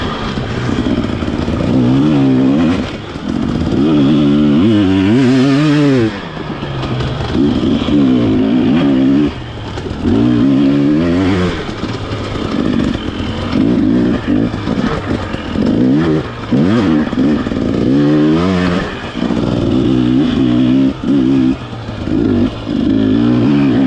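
Dirt bike engine revving hard and easing off repeatedly on a tight, twisty enduro trail, loud and close throughout with constant throttle changes.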